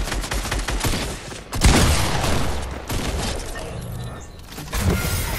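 Gunfire in a Fortnite match, with bursts of rapid shots and sharp cracks that swell and fade over several seconds, some loud and close and others more distant, with brief quieter gaps between volleys.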